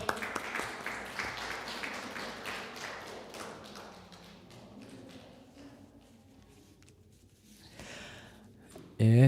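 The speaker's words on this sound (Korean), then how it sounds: "우리 지훈이 위해서 박수 한번 할까요?" A church congregation applauds, a burst of clapping that is loudest at the start and fades away over several seconds.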